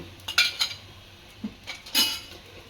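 A spoon mixes oil into a North Karnataka roasted eggplant chutney, clinking against the bowl in a few light, close scrapes and taps with no talking.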